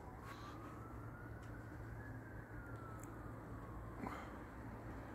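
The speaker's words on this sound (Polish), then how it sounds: "Wyje syrena." A faint siren wails in the distance, its pitch slowly rising and falling beneath a steady low hum of outdoor noise.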